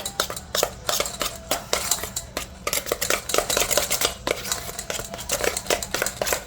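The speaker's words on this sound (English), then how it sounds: "we're just going to mix that up real well" Metal spoon clinks and scrapes repeatedly against a bowl while mayonnaise is stirred into a deviled egg filling, a steady close rhythmic clatter with no talking.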